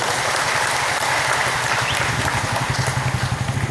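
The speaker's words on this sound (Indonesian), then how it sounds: "Tepuk tangan dulu bang" Audience applause at a large religious gathering held at a police headquarters in Banyumas, a steady dense clapping wash with a low rumbling undertone, continuous through the clip.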